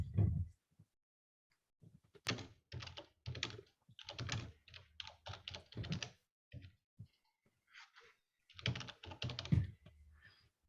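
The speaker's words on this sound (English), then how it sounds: "I don't know whose keyboard that is." Keyboard typing in irregular bursts of clicks, close and fairly clear against a quiet background, with no talk.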